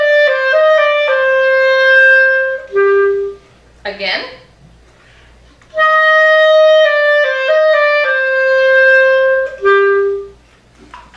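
Clarinet playing a slow junior all-state etude phrase with a triplet rhythm, sustained tones and quick note groupings, loud and close, broken once by a brief spoken word midway before the melody resumes.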